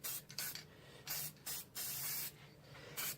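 Spray paint can hissing in several bursts of varying length, with short pauses between them, fairly loud and close, no voices.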